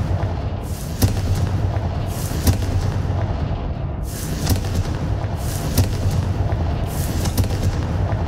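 Confringo fire spell blasts from the game Hogwarts Legacy, with about seven sharp, booming explosions at irregular intervals over a continuous rumbling combat backdrop, loud and close.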